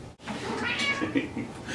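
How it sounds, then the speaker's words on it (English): A kitten meows and mewls near a litter box, a run of close, moderately loud cat cries lasting under two seconds and preceded by a brief gap. "That noise is my cat in the litter box."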